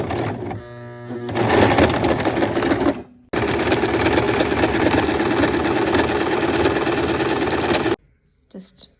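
A sewing machine stitching a tote bag made from a grain bag runs in a loud, close, steady whirring burst, stops briefly, then runs again for several seconds before falling silent, followed by faint handling sounds.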